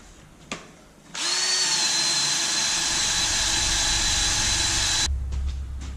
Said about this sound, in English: after about 2 or 3 hours of grinding and then wire wheeling